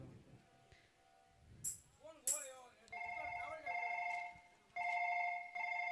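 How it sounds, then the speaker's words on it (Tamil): A telephone rings during a call, its repeating electronic tone sounding in steady bursts over a muffled background, with people talking briefly before it starts. "சரி மாமாக்கே ஃபோன் பண்ணி கேட்டுருவோம்"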